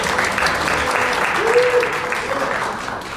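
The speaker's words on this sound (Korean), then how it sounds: "박수해 주십시오" Church conference audience clapping to welcome a pastor taking the stage, a short burst of steady, fairly loud applause from many hands, with a faint voice briefly underneath.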